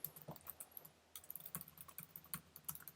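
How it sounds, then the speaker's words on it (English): Quick light keystrokes on a computer keyboard tap out a short message in an uneven run with a brief pause, close but quiet, with no talking. "let me type up a quick voicemail greeting"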